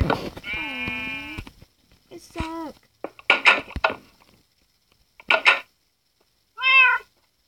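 Several cat meows in a crafting video game, a long harmonic mew followed by shorter rising and falling calls spread across several seconds, close and clear, with bursts of other game noise in between.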